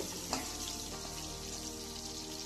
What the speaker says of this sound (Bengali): এবার মাছগুলোকে সুন্দর লাল লাল করে ভেজে নেব